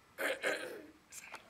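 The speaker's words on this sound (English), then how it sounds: "Let me clear my throat." One person clears their throat in two short, rough bursts close to the microphone, followed by a fainter third rasp, in a quiet room.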